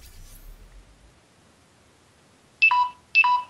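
A mobile phone alert in a video game plays two short, bright electronic beeps in quick succession, each a rising pair of tones, clear and close after near silence.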